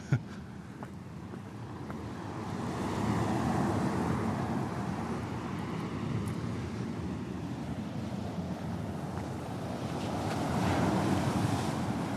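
Wind and surf at the seashore roar steadily, with gusts buffeting the microphone and waves washing in, swelling louder midway and again near the end, with no voices.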